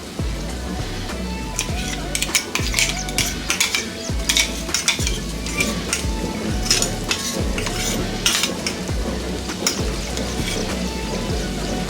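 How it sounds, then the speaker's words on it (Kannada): Onion and masala paste frying in a pan for a radish stir-fry, with steady close sizzling and repeated scraping and stirring strokes of a utensil against the pan. "ಆ ಪೇಸ್ಟ್ನ ಹಸಿ ಘಾಟ್ ಹೋಗೋ ತನಕ ಇದನ್ನು ಫ್ರೈ ಮಾಡ್ಕೊಳ್ಳೋಣ"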